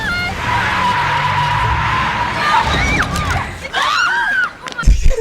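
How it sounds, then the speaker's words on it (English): Loud tires squealing in a long car skid, then rising crowd noise, shouts and screams, with a thump near the end as the car hits a pedestrian. "A blind lady just got hit by a car."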